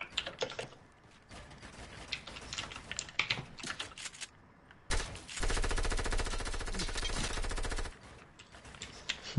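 Rapid gunfire from a PC video game, heard as a loud, sustained burst of automatic shots lasting about three seconds, preceded by quieter clicking and scattered in-game sounds.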